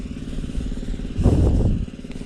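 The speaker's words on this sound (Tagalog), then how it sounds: "Papatayin muna natin yung makina." An engine runs with a steady, low, rumbling drone that swells louder and rougher for about half a second in the middle before settling back.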